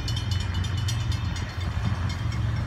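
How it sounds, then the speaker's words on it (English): A Florida East Coast freight train rolls past at a grade crossing, with an SD40-2 locomotive trailing and autoracks at the head end. Its steady rumble and wheel noise carry on loud and continuous for the whole stretch. "So we got train 101 coming, and apparently he's got a SD40-2 trailing."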